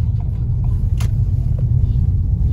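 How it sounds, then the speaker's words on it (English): A car drives over a rough, potholed road in Birmingham, its steady low rumble broken by a couple of brief knocks and thuds as the wheels hit the holes. "I don't like my car driving in potholes"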